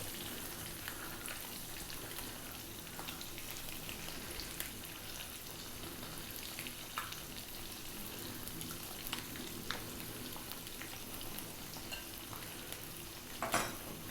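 Fish pieces fry in a pan with spices for a coconut milk curry, a steady close sizzle with occasional scrapes and clinks as they are flipped, without talk.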